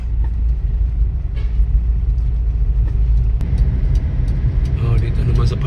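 Traffic rumbles steadily along a narrow two-lane road, heard from a passing vehicle as a loud, low, continuous roar with a few brighter swishes of passing cars, and a voice speaks over it.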